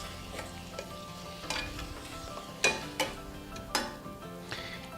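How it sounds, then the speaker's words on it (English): Slow cooker sauce is stirred into shrimp and garlic in a pan, with a soft continuous sizzle and several distinct spoon scrapes and taps against the pan; no one talks. "I'm going to go ahead and stir this in."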